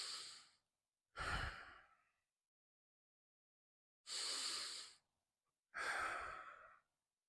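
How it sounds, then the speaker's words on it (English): Slow, deep breaths taken during a core exercise session: four long, close airy exhalations and inhalations in a calm rhythm, with quiet gaps between them. "I want you to take 5 deep breaths"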